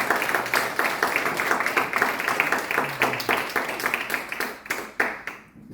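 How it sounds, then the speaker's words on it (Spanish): A church congregation claps together at a Sunday service, with a dense, steady run of handclaps that fades out at the end. "Denle un aplauso, mis hermanos"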